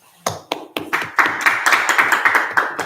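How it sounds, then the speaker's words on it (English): Audience at a japa workshop clapping, starting with a few scattered claps and building to a loose, steady round of applause nearby. "You don't have to clap"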